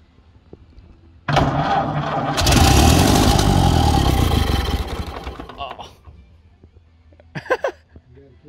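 A long-dormant, badly flooded Ford Model A engine cranks hard, a loud sustained churning burst that swells then fades after several seconds without catching, followed by brief faint knocks.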